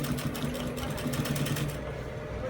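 A sewing machine stitches piping tape along a kaftan neckline, a steady mid-level motor whir with a fast rhythmic needle pulse running throughout, close by and without speech.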